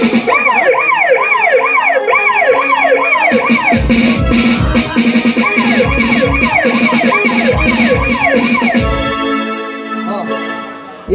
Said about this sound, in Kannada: Police jeep ಬಂದಿದೆಯಪ್ಪ.